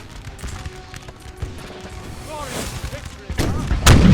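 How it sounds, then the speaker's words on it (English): Cannon fire in the Napoleon Total War video game, with the Prussian army's gun sounding a heavy boom near the end after scattered smaller battlefield reports and distant rumble. "Fire the gun!"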